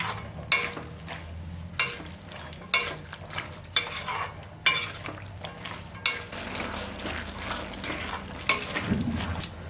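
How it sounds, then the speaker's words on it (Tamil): Drumsticks being sautéed with field beans in a pan for a South Indian kulambu: a soft, continuous sizzle broken by a series of regular stirring scrapes, close and moderately loud, with no voices. "இந்த முருங்கைக்காய் எல்லாத்தையோட போட்டு நல்லா வதக்கிடலாம்."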